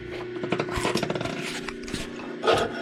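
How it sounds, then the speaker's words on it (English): A hand file scrapes along a metal edge in short, irregular strokes, each a close, rasping burst, with a brief louder scrape near the end. "The only thing we got to do now is do a little bit of filing here real quick."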